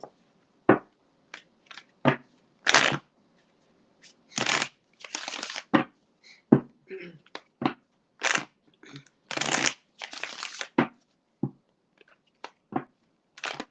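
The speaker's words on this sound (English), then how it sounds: "the cards don't even want to shuffle." Tarot cards being shuffled in a series of short, crisp riffles and bursts, close and fairly loud, separated by brief pauses with no talking.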